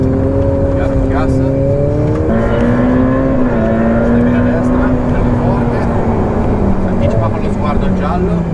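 Ferrari F8 Tributo driving on a race track, its engine note sweeping up and down steadily through gear changes from inside the cabin, with voices speaking over it.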